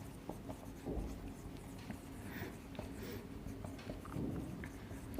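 Chalk or marker scratching across a board as math is written out, close, with short strokes and taps in a steady, uneven rhythm and faint room noise.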